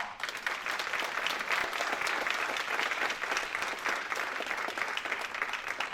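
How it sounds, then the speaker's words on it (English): A church congregation applauds itself in celebration: a full, even wash of many hands clapping, loud and continuous for six seconds with no voices over it. "Would you give yourself a round of applause?"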